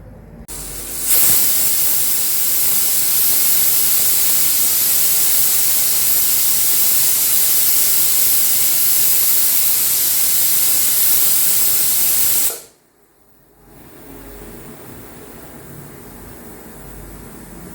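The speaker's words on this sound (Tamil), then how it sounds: "இப்போ நம்மளுக்கு 2 விசில் வந்துருச்சு." A pressure cooker on high flame, cooking mushroom biryani, lets out a long continuous loud hiss of escaping steam for about eleven seconds, then cuts off abruptly, leaving a quieter background hum.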